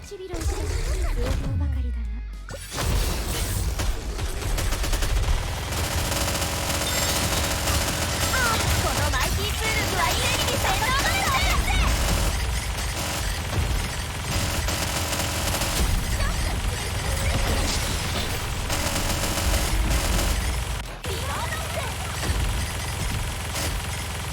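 Gunfire from the mobile shooter NIKKE, rapid repeated shots and steady automatic fire running throughout at fairly loud level, with game effects layered in and someone speaking over it.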